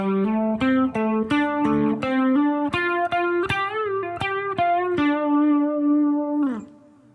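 Distorted electric guitar plays a quick lead phrase, a run of picked and slurred notes that ends on one long sustained note, close and loud with no voice over it.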